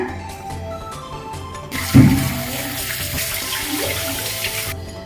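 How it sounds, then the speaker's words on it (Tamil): Running tap water splashes steadily as chicken is rinsed with turmeric in a kitchen sink for cashew masala chicken, a loud continuous gush that starts abruptly and stops near the end. "கொஞ்சம் மஞ்சத்தூள் போட்டு கழுவி எடுத்துக்கலாங்க."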